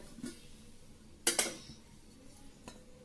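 A metal wok-style cheenachatti is set down in a home kitchen, giving two quick close metallic clanks in the middle, with a few faint clinks before and after in a quiet room.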